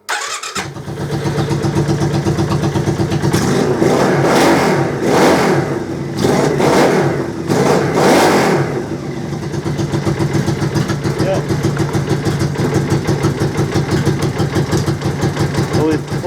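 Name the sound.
trike engine starting and running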